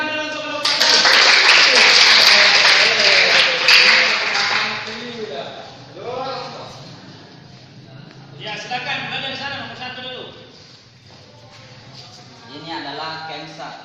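A classroom of students in a heavy equipment engineering lesson bursts into loud applause that fades after a few seconds, followed by a teacher and students talking.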